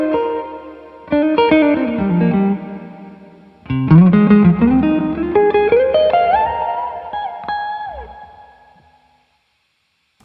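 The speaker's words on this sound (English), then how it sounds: "So I hear like a spring reverb, you know, mixed into a cathedral" Guitar notes played through a Carl Martin HeadRoom compact digital spring reverb pedal with the tone knob cranked, two loud strummed chords blooming into bright, shimmering, long cathedral-like reverb tails that slowly fade out.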